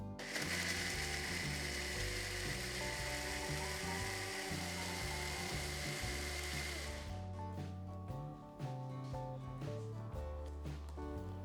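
A kitchen mixer grinder whirs loudly for about seven seconds, grinding a coconut spice paste with water for sardine curry, over background music, then cuts off while the music continues.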